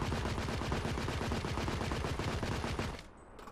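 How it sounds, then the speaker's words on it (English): Rapid automatic gunfire in the video game The Order: 1886, a dense sustained burst of shots that cuts off abruptly near the end, leaving a quieter tail. "Who am I shooting at?"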